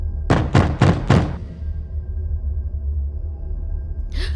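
A door in a Tamil film teaser takes four sharp, evenly spaced knocks in quick succession, followed by a low steady room hum and silence.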